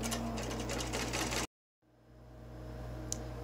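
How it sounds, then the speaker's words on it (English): Embroidery machine stitching out a zipper bag, steady rapid mechanical stitching hum that stops abruptly, followed by a short silence and then a quieter whirring motor building back up. "So now we're going to stitch out this portion."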